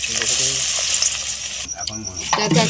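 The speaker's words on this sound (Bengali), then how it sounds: "তো আগে আগে ভেজে নেব" Sago luchi frying in oil in a hot kadai, a continuous close sizzle with bubbling crackle and occasional stirring scrapes, no talking.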